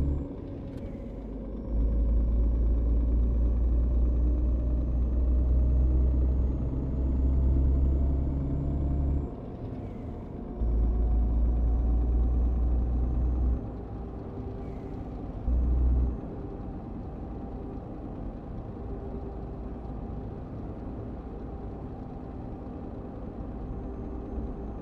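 A truck engine in the On The Road driving game holds a steady, low rumbling drone that swells and drops in stages as it accelerates, with brief dips between surges and no talk.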